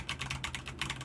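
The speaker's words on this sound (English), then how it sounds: "Here is some keyboard noise." Computer keyboard typing picked up by an Elgato Wave 1 streaming microphone placed about a foot away, a quick irregular run of crisp key taps over a low steady hum, no talking.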